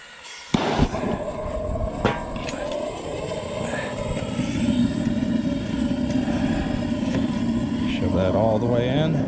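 A gas burner lights with a sudden whoosh and then roars steadily and close while heating a crucible coated with borax, growing slightly louder over time, with a voice speaking over it.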